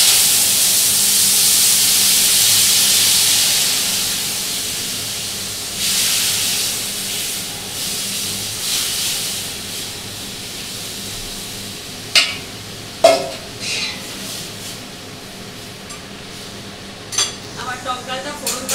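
Whole spices for tempering hit hot oil for a sour mango dal, giving a loud broadband hiss at first that gradually fades into a softer sizzle, broken near the end by a few sharp clinks of a utensil against the pan.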